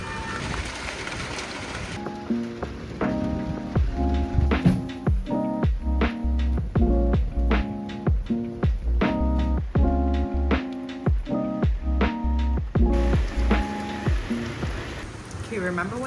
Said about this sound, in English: It just started absolutely pouring rain.